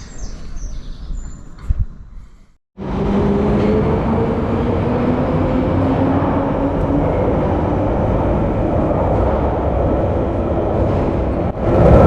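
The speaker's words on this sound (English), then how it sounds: "Let's jump on the train." Inside a train travelling toward London, a steady loud rumble and rush of wheels on track fills the space after a short quieter moment, continuing evenly with a faint whine.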